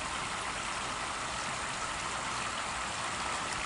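Steady rushing splash of a pump-fed garden waterfall falling continuously into a pool, close and even, with no pauses or voices.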